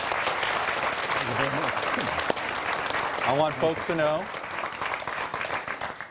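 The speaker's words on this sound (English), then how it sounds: "Let's give them a round of applause." Applause from a live audience at a North Carolina gubernatorial debate, a moderate patter of clapping heard beneath someone speaking in the foreground.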